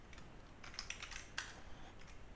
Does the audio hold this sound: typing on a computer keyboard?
yes